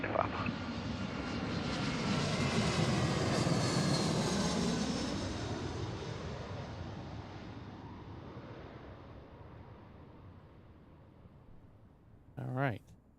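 A Delta Airbus A320 arriving at Seattle roars past, its engine noise swelling loud then fading gradually as it descends away, with a brief burst of voice near the end.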